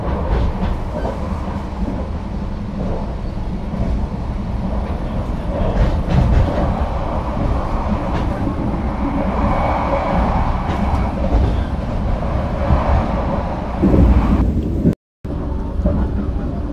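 An executive-class passenger train runs toward Blitar station, heard from inside the dining car: a continuous loud rumble with rhythmic wheel clatter and rattling, briefly cut out near the end.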